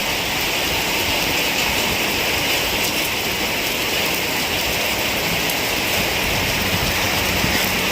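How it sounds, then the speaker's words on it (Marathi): Heavy rain in Chiplun, a loud, thick roar of downpour filling the air, steady throughout with no voices. "पावसाचा जोर काही कमी होत नाही आहे"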